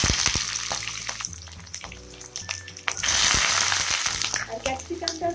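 Large chunks of onion added to hot oil with dried red chillies in a pan for chicken dopiaza, giving a steady, fairly loud sizzle and crackle that swells after the onions go in.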